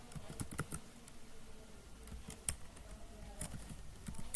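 Fingers type on a computer keyboard in quick, uneven bursts of soft clicks and taps, close by, fairly quiet, with no talking.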